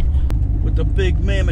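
A C4 Corvette with a big engine cruises through town, its steady low rumble close and continuous while a voice talks over it.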